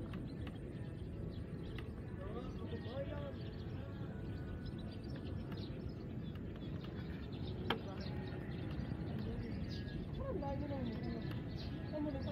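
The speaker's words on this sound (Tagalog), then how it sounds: "Maraming ibon. May ingay na ibon." Birds chirp and call in scattered bursts beside Laguna de Bay lake, faint against a steady outdoor wash of background noise.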